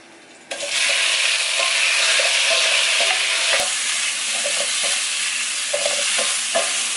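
Tomatoes drop into a pan of frying ginger, setting off a sudden loud sizzle that keeps hissing steadily with occasional stirring scrapes and clinks.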